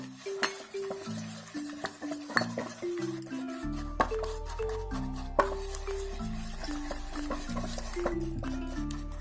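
A spoon stirs chocolate lava cake batter with refined oil and powdered sugar in a bowl, making repeated scraping clinks against the dish under continuous background music.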